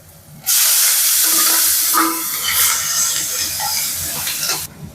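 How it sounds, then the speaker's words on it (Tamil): Tomatoes and curry leaves sauté in a hot pan, giving a steady, close, loud hiss and sizzle that starts abruptly and runs for several seconds before cutting off, with faint stirring. "ரெண்டு தக்காளி, ஒரு கொத்து கருவேப்பிலை, இதையும் போட்டு வதக்கிக்குவோம்."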